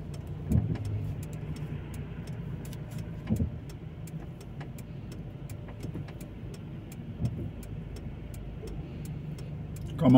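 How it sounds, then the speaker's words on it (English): Heavy road traffic passes near a roundabout on Dallow Road in Luton, UK, a steady close rumble of car engines with occasional louder passing vehicles and no talk. "The traffic is still heavy around here"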